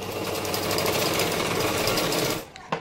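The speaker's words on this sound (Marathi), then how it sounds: "आता या साईडने सुद्धा आपण टक्स जो आहे तो स्टिच करून घेणार आहोत।" A sewing machine runs steadily and loudly, stitching tucks on a blouse, a dense continuous whir for over two seconds before it stops, followed by a brief clack.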